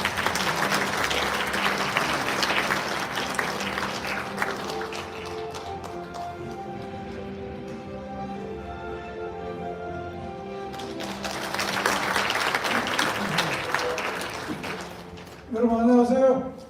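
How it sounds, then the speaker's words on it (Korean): Welcoming applause from an audience at a launch ceremony in a National Assembly hall, a burst of clapping at the start that fades under a sustained musical tone, then swells again later before a few sharp closing sounds. "큰 환영의 박수를 부탁드립니다"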